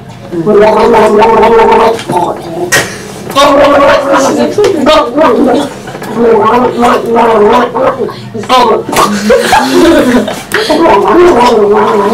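People gargle in a Christmas gargle challenge, making loud, close, bubbling voiced gargles in several long bursts with brief pauses between them and a hint of laughter.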